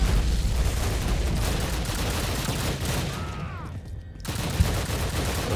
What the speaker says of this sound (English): who's shooting at us now?